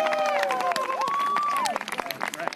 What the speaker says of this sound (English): let's applaud these young people for being so patient.